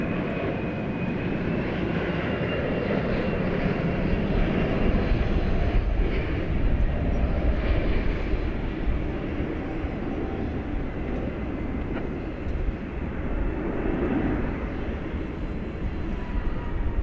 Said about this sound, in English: A 787-8 Dreamliner coming in from Philadelphia, the city of brotherly love.